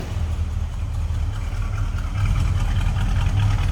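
A 1967 Dodge Coronet R/T 440 idling from the rear with a steady, deep, loud low rumble that swells slightly partway through, with no talking.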